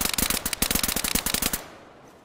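Rapid automatic gunfire from the DayZ video game, a fast rattling string of sharp shots lasting over a second and then cutting off into a fading tail.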